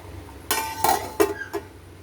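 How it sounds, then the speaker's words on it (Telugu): A metal lid set onto a cooking pot of chicken curry: a few short clanks and clinks of metal on metal, close and fairly quiet, with no talking. "మూత పెట్టేసుకుందాం."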